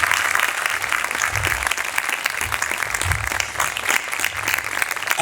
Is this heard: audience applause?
yes